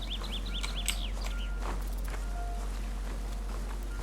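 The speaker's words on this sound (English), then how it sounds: "It's a lovely bird sound coming out there." Bird song in the Lushfoil Photography Sim video game: a short series of bright, repeated chirping whistles near the start, then softer scattered calls over quiet rustling and footstep-like sounds and a low hum.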